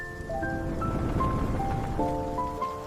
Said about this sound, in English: The rain is soft